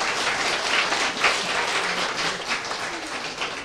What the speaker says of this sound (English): I want all of you to applause for them also